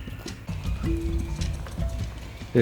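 Zebra hooves clip-clop at a slow walking pace across hotel grounds in Kenya, a steady moderately close patter of footfalls with faint background activity.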